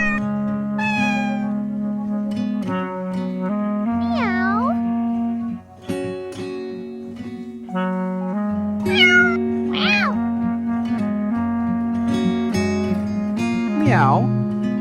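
A mother cat character gives several drawn-out, sliding meows, likely a voice imitating a cat, that rise and fall over steady, bright background music on a farm, with short gaps between calls.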